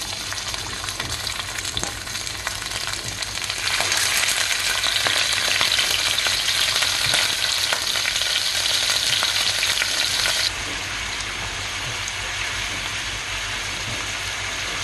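Marinated pork belly fries in a lightly oiled hot pan, a loud, continuous close sizzle and crackle that swells for several seconds in the middle before settling back, with no talk.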